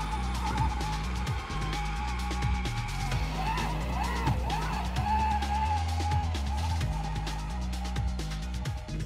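Electric Polaris Ranger UTV converted to full electric, crawling through deep snow in low gear with all-wheel drive and locked differentials; a steady whine and crunching, scraping drivetrain noise runs continuously, close and fairly loud.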